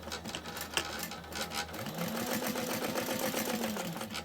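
A sewing machine runs a steady, rapid top stitch an eighth of an inch in along the long sides of a fully lined mini backpack at a long stitch length, a brief start then continuous close whirring alone.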